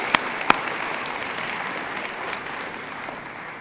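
An audience claps steadily at the opening ceremony of the U.S. Department of Energy Solar Decathlon 2013 on a Thursday morning. It forms a continuous wash of hand claps with a couple of sharp, close claps standing out near the start.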